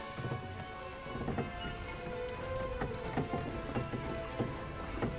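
Thunderstorm in the video game Doctor Who: The Eternity Clock, steady heavy rain with scattered drips and low rolling thunder, a continuous dense wash with no speech.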